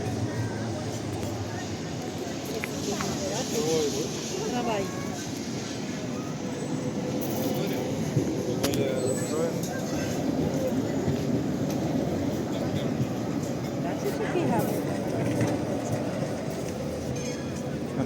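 A tram rolls past in central Lviv with a steady low rumble and clattering wheels, faint squeals along the rails, and people talking nearby throughout.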